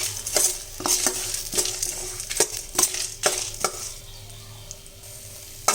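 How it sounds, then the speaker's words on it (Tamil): Lentils dry-roasting in a pan over low heat for sambar, with a spoon scraping and clattering against the pan in repeated strokes over a soft background hiss. "நல்லா தீ கம்மியாக வச்சுட்டு பொன்முருவலாக வறுக்கணும் இந்த பருப்பு."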